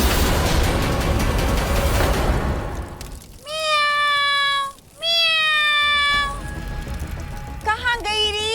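A cat meows twice in long, drawn-out cries, then gives a shorter mew near the end. The calls are close and loud, with a busy noisy background before them and softer clatter between them.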